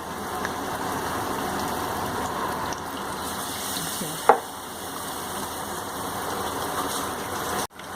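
Food fries in hot oil in a pan, a steady close crackle and sizzle with a sharp pop partway through and a brief clatter near the end.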